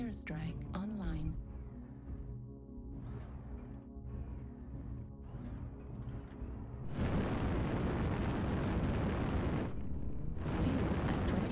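Heavy rumbling explosions from an airstrike in the MechWarrior Online mech combat game, with a sustained roaring blast that swells partway through and carries on, overlapping other battle noise and a synthetic announcer voice.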